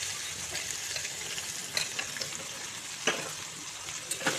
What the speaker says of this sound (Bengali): পেঁয়াজগুলোকে আমি লাল লাল করে ভেজে নেব।